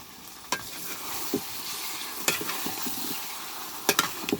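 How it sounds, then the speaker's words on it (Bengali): Meat and potatoes stirred in a pan, a spatula scraping and clattering in a few sharp strokes over a steady low sizzle, close and fairly loud. "এখন গোশতগুলো এটার মধ্যে আবার দিয়ে আবার কিছুক্ষণ নাড়াচাড়া করব।"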